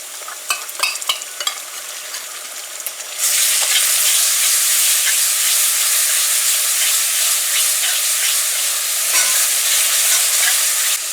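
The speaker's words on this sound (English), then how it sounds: "So the curry paste as usual is cooked for about 2 minutes, and you want to stir during that time to prevent it from burning." Curry paste fries in a hot pan for chicken liver and gizzard curry, a few scrapes and clicks of stirring, then a loud steady sizzle surges up and roars on with occasional spoon scrapes.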